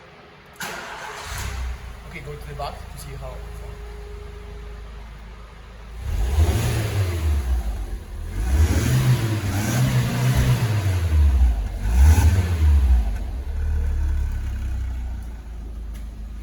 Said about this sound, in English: Let's just start the car to see how it sounds.